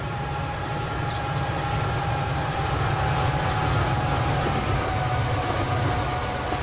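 An Amtrak GP40-2 diesel locomotive train passes in the Transport Fever video game, giving a steady, loud rumbling roar with a faint high whine, continuous and unchanging throughout, with no talk over it.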